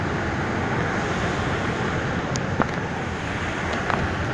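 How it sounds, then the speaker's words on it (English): A waterfall viewed from above by a river, a dense steady roar of rushing water that holds at constant loudness, with faint brief sounds over it. "Look at the waterfall."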